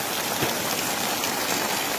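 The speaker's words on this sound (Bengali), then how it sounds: "আর হেভি লেভেলের একটা বৃষ্টি হচ্ছে" Heavy monsoon rain pours steadily at a hill stop in Sittong near a roadside chicken shop, a dense, continuous hiss that stays loud and even throughout with no voices.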